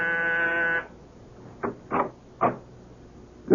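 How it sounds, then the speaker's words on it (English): A harsh, buzzing door buzzer sounds once in a radio drama, steady and loud for under a second, followed by a few soft door or footstep knocks. "I was just about to leave when my door buzzer sounded."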